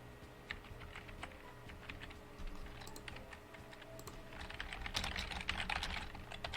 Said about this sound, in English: I was typing in my Discord